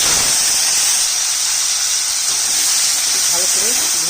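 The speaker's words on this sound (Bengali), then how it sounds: "ভালো করে ভেজে নিচ্ছি।" Vegetables, including bottle gourd greens, fry in hot oil with fried shrimp, dried red chilli and nigella seeds, producing a loud continuous hiss and sizzle close up, with faint stirring scrapes near the end.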